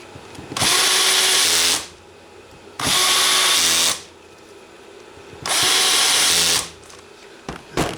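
A cordless power drill set low on its torque clutch drives screws during a Yamaha Banshee carburetor job, with three loud, steady whirring bursts of about a second each separated by short pauses, close up and without talk.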